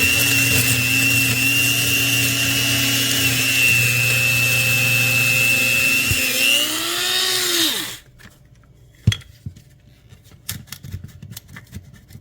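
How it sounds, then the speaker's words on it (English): A grinder whirs loudly and steadily as it grinds eggshells into powder for garden use, then spins down and stops, leaving a few light knocks and rattles. "I want to ensure all the eggshells are grinded up."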